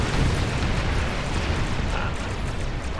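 A loud explosion in the Star Trek Online video game: a heavy, sustained rumble that fills the whole stretch with no break and no talk.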